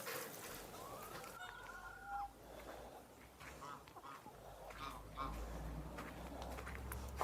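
Faint clucking of farmyard hens and other fowl at feeding time on a winter day, with one drawn-out call early on, over a low, steady background hum.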